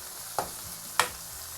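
Chopped tomatoes sizzle steadily in a hot pan while being cooked down for a sardine fish curry, with two sharp spoon knocks against the pan breaking the continuous hiss.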